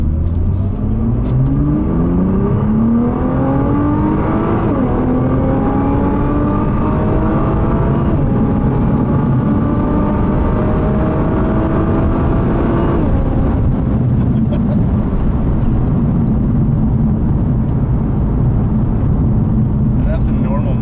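A 2017 Nissan GT-R pulls hard from a second-gear start in normal mode, its engine note rising steadily with a turbo squeal on top, then easing into a steadier drone; occupants talk over the loud cabin rumble.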